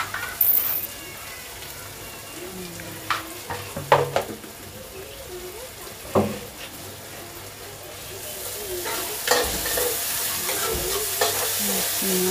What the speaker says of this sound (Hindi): प्याज ब्राउन हो के जल्दी पक जाए, ब्राउन हो जाए।